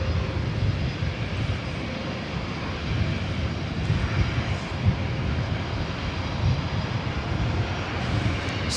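A SkyWest Embraer E175 regional jet arrives at LAX, sending out a steady, rumbling jet roar that holds at an even level with no talk over it.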